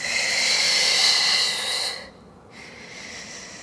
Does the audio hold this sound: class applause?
no